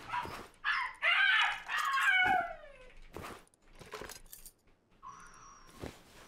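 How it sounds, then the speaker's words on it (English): A dog in the survival video game Rust barks and whines in a quick, agitated burst, followed by short yips and a brief higher whimper, close and fairly loud with no talk over it. "Angry little pupper, dude."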